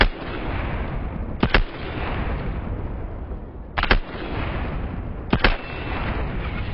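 Gunfire in the video game Apex Legends: three short, sharp bursts of shots stand out at a steady spacing above a constant, dense bed of game noise, with no talking.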